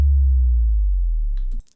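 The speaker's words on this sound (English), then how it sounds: "There's a drop sound." A deep sub-bass drop effect in a metal song mix booms loudly and steadily, then cuts off abruptly, followed by a brief trailing flutter of higher noise.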